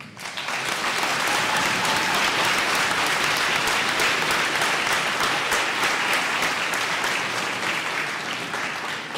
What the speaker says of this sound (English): Please join me for a final round of applause to thank our veterans and those currently serving.